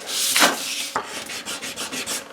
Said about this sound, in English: this is just some 400 grit wet dry sandpaper. And a few swipes of this will take the machining marks off